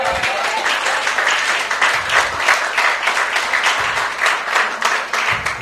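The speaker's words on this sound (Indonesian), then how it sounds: "Berikan tepuk tangan bagi dia." A church congregation applauds after a sermon, a dense, steady wash of many hands clapping that continues throughout, with a few low tonal hums underneath.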